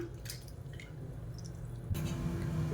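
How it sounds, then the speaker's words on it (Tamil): Tamarind being squeezed and dissolved in water for a fish curry gives soft, wet squishing with light drips and sloshing. The sound is close, fairly quiet and continuous, with no voices. "இப்போ புளி கரைச்சி எடுத்துகிட்டேன்"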